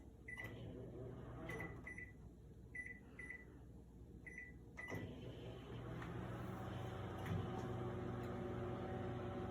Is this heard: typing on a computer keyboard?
no